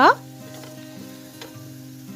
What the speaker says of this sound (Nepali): मैले 2 चम्चा जति यसरी मैदालाई पनि राखेर 2 मिनट यसरी लो फ्लेममा भुट्दैछु।